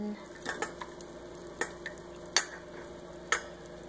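Spoon stirring kalang fen mixture with limestone juice in a bowl, a few light scattered clinks and scrapes over a quiet background, with no talking.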